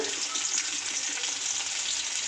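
Pirandai and other chutney ingredients sauté in hot oil in a pan, giving a close, continuous crackling sizzle with the soft scrape of stirring.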